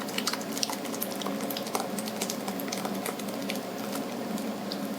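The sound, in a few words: pouring curds and whey through a flour sack towel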